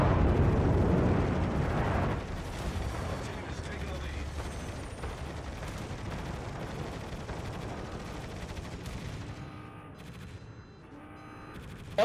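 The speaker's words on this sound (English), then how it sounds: "Bombs away!" Aerial bombs explode in a video game as a dense, roaring barrage of blasts and rumbling, heaviest at the start and then continuing steadily under the game sound.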